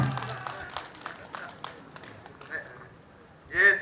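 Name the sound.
applause at a rally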